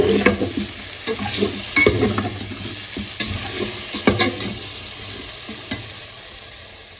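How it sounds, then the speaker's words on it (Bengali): Spices frying and being stirred in a pan during home cooking in Barisal, with steady sizzling and repeated scraping stirs near and clear, no voices over it. "এখন মশলা দিয়ে ভালো করে কষিয়ে নেব"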